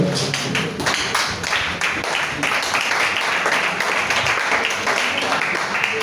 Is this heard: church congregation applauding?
yes